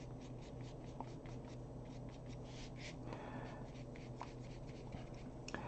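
Colored pencil lightly shading a forest tree drawing on paper in light green, a soft continuous scratchy rasp with faint stroke rhythm over steady low room hum, close and quiet.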